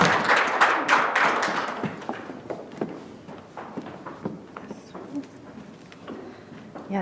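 Audience applause at an awards ceremony for women of achievement, a dense patter of clapping that is loudest at the start and thins into scattered claps over the seven seconds.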